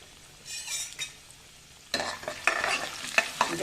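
Tempering oil sizzling in a pan with chana dal, urad dal, turmeric and mustard seeds, a quiet start that swells into louder crackling frying with spoon stirring scrapes, close and alone.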